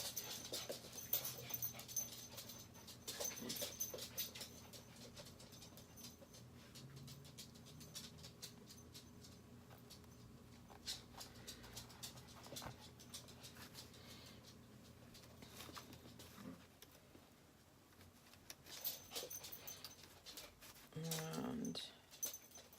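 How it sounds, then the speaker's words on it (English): A small pet dog pants and patters its little feet around a home, faint and fairly distant, while a low steady background hum runs throughout, with brief whimpers and a louder shuffle near the end. "Here you hear those little feet from my puppy, my dog."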